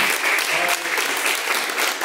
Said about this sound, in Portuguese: Palmas que louvam e engrandecem a Deus.